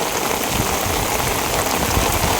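Steady rain falls in a village wetland during fishing with a cotton net, a loud, even rush of drops hitting the surface without pause.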